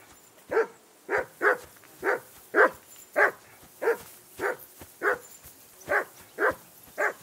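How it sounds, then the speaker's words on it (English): A dog barks repeatedly in Kingdom Come: Deliverance 2, about thirteen evenly spaced, fairly close barks at a steady rhythm over a faint background, with no talking. "I assume you can hear that damn dog of yours barking."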